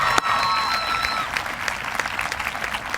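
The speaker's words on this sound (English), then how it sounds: "give yourselves a round of applause on that." A high school graduation crowd applauds, dense clapping and some cheering filling the space, loud and continuous across the whole clip.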